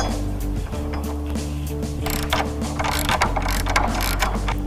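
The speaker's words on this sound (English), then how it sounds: "Now using a 15mm socket wrench and an adjustable wrench, you can tighten those into place." A 15mm socket wrench ratchets bolts tight while assembling a Spalding in-ground basketball hoop with a 44-inch polycarbonate backboard, giving a steady run of close mechanical clicks over a low background hum.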